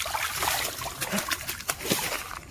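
A trout released into a lake splashes and sloshes in short, close bursts of churning water over about two seconds, loud and choppy, with no talking over it.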